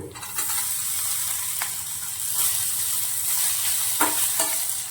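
Chopped ginger and raw potato pieces sizzle loudly and steadily in a pan, with occasional stirring scrapes and clicks over the continuous frying hiss.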